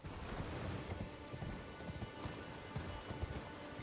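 Horse hooves galloping in the video game Elden Ring, a steady rapid clip-clop of running hooves that stays fairly faint beneath a busy game soundscape.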